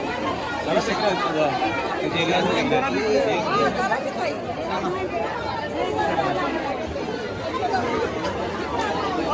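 A dense Sunday crowd at Jejuri temple fills the air with close, continuous chatter and babble from many voices, with no break throughout.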